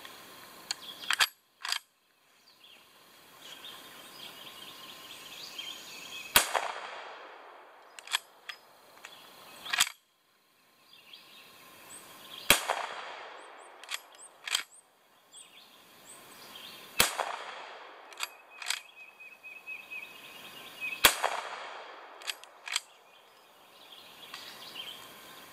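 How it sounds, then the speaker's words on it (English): An Uberti 1873 Winchester lever-action rifle fires shot after shot, with about six sharp, loud cracks spaced several seconds apart. Each crack rings out and decays, and fainter clicks and clatter from the lever action fill the gaps. "this is the 1873 Winchester, and I'm shooting the same loads"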